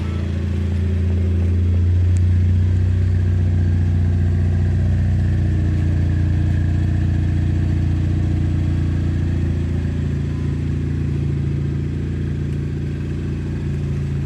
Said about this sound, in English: DNA motoring 3-inch catback exhaust.